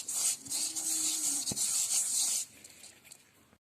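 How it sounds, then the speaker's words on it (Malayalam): Masala being rubbed by hand into raw, washed chicken for chicken kadai, a close, continuous wet rubbing and hissing that stops abruptly partway through, leaving a quiet tail. "ചിക്കൻ അതിലേക്കിട്ട് മസാല നന്നായി തേച്ച് പിടിപ്പിക്കുക."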